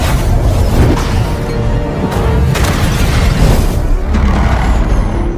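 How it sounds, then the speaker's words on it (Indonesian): A huge power plant explosion in a film, a loud, dense, sustained roar of blast and rumble that fills the whole stretch with repeated bursts and no quiet gaps. "pembangkit listrik itu pun meledak dan ledakan itu sangatlah besar"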